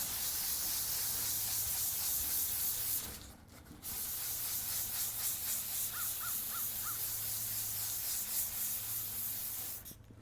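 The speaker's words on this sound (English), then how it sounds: "So we're just going to do this in a circular pattern with this interface pad." A Chevy C10's cab corner bodywork is sanded by hand with 400-grit paper on an interface pad in circular strokes, a close rhythmic rasping that pauses briefly twice, while a crow caws a few times in the background.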